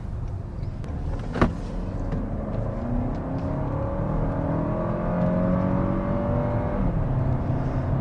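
A 2024 Toyota Crown's four-cylinder engine runs in a steady, smooth whir heard from inside the cabin, rising slightly in pitch as it pulls, with a single sharp click near the start and no talking.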